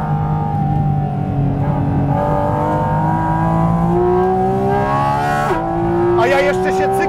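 A car engine revs hard and climbs through the gears at speed on a race track, loud and close, with steady rising pitch and a brief shift near the end.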